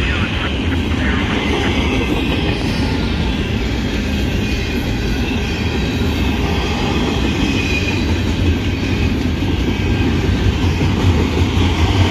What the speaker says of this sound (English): What do we have here? Another intermodal train,